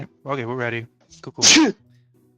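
A single sharp, loud sneeze bursts out close to the microphone, right after a few words of casual talk.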